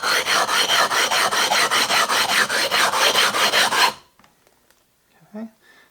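A 6-inch glass telescope mirror is ground with 80 grit abrasive, a loud rhythmic gritty rasp of back-and-forth strokes, about four per second, stopping abruptly and followed by faint handling sounds.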